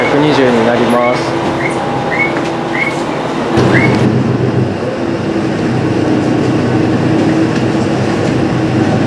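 A JR West KiHa 120 diesel railcar running, with a steady loud rumble and rattle of the moving car. Rising whistle-like tones sound through the first four seconds before the rumble settles into a constant drone.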